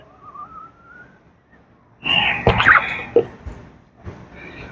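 A squeegee drags ink across a screen onto a t-shirt during four-color process screen printing, giving a faint high whistle early on, then a louder burst of scraping, squeaking friction strokes with a brief tonal squeal.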